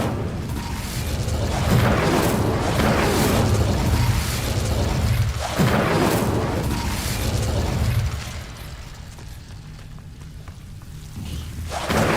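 A fire spell being cast in the video game Hogwarts Legacy, a sustained roaring, crackling burst with a couple of louder whooshing swells before it fades into quieter background noise.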